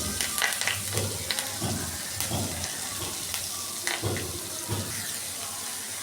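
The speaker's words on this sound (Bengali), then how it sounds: "কারি পাতাটাকে আমি এভাবে ভেজে নেব" Curry leaves fry alongside half-cooked vegetables in a pan for sambar dal, a continuous close sizzle with scraping stirs and occasional sharper crackles, no voices over it.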